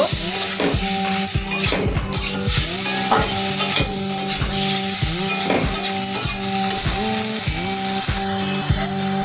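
Kochur loti (taro stolons) being stirred with hot water in a pan, a loud, continuous run of rhythmic scraping and sizzling strokes close by, with frequent metal clinks of the spoon against the pan.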